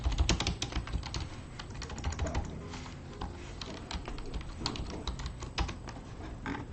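Rapid, uneven keystrokes on a computer keyboard clatter close up in bursts, loud clicks with a few brief pauses and no voices over them.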